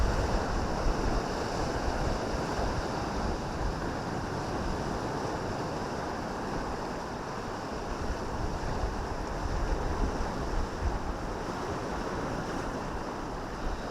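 Sea waves breaking on the beach at Saltom Bay in the Lake District, a continuous broad roar of surf with wind buffeting the microphone, steady and close, no voices.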